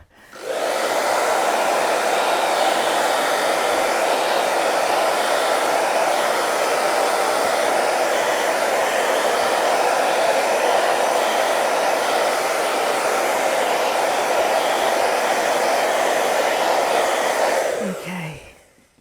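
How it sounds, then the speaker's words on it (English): A hair dryer blows steadily at close range for about seventeen seconds, drying a damp gel plate print made from a laser copy transfer, switched on and off with no voices. "And get my hairdryer again. Give that a dry."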